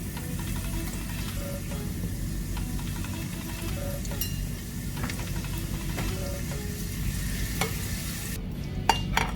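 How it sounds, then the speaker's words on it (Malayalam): Small shallots frying in a pan for Kerala Onam inji curry, a steady soft sizzle with occasional stirring scrapes and light clinks, no voices. "അപ്പം ഉള്ളി നമ്മൾ വറുത്ത് കോരിയിട്ടുണ്ട്."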